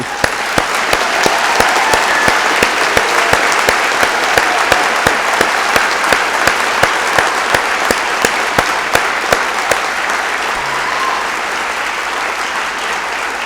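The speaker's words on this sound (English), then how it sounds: "I think another round of applause for you" Convocation audience applauding graduates in a large hall, a loud, continuous wash of clapping with many sharp individual claps standing out, fading slightly near the end.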